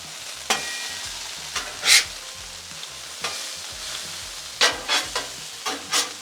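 Food fries on a Blackstone griddle with a steady sizzle, broken by several sharp scraping and clacking bursts as a spatula flips pieces in stages; no one speaks.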